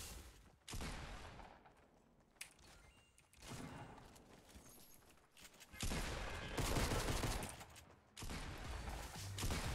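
Shotgun fire and other gunfire from a Fortnite Season 7 solo match come in several loud, close bursts separated by quieter gaps.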